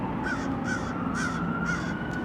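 Crows caw repeatedly outdoors in a steady series of four or five harsh calls, fairly close, over a constant low background hum of distant traffic.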